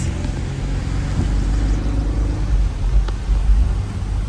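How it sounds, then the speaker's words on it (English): A 2011 car fitted with a swapped-in LFX engine runs and drives, giving a steady low engine rumble with road noise that holds level throughout, close and fairly loud, with no talking over it. "the engine is in and running, and we are going on a"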